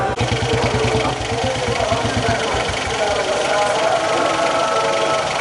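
Motorbikes in a voter-awareness rally of former soldiers riding across the TB Dam. The engines give a loud, close, throbbing idle rumble that swells into a dense, continuous roar.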